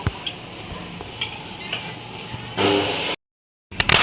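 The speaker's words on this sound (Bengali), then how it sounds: "এর জন্য আমি কড়াইতে সরষের তেল দিয়ে দেব।" Whole cinnamon and cardamom crackle in hot mustard oil in a wok, a steady close sizzle with a few stirring scrapes and a sharper burst of frying near the end, with no talk.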